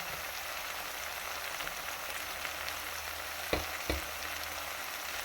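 Banana flower sautés with tomato and chili powder in a pan, giving a steady close sizzle throughout, with two brief knocks of a stirring spoon near the end.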